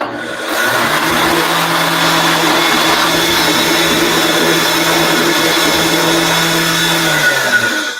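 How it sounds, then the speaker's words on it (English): A countertop blender runs loud and steady for several seconds, blending watermelon with a constant whirring motor drone, then winds down briefly at the end; no talking. "So I'm going to pop this just onto the blender right here behind me."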